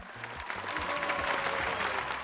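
A short burst of applause used as a sound effect: dense, even clapping at moderate volume from start to finish, with no talk over it.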